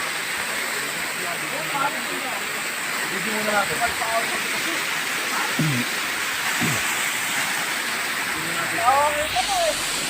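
Labi Falls pours with a constant broad rushing roar, steady and fairly near, while people talk and call out over it.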